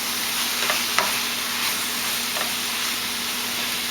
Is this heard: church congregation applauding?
no